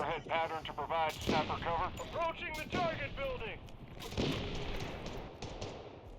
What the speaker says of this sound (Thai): เราเราโดนยิงครับ เราโดนยิง